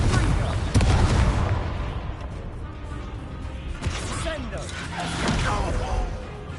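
Confringo fire spells go off during a Hogwarts Legacy battle, sending loud booming bursts and crackling impacts through dense, continuous combat noise, with a heavy hit at the start and more blasts later.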